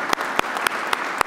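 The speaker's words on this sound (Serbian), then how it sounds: "Aplauz za sve ove male heroje koji su ovdje sa nama." A few sparse hand claps at an event honouring children with rare diseases, a handful of distinct sharp claps spaced irregularly against quiet room noise.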